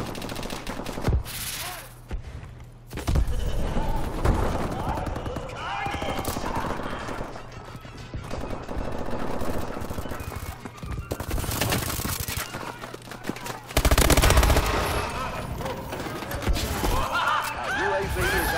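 MP11 submachine gun in Call of Duty: Advanced Warfare team deathmatch, loud rapid bursts of automatic fire in several close strings with pauses, mixed with game effects and no talk.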